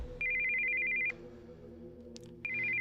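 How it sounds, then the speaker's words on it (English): A cell phone rings for an incoming call, its electronic tone sounding in clear repeated bursts with short gaps between them, close and alone against a quiet room. "we heard the sound of an incoming call on a cell phone"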